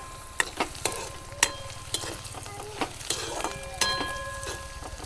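Tindora (ivy gourd) and potato curry frying in a pan, with a steady soft sizzle under repeated sharp scrapes and clinks of a spoon stirring against the metal, close by.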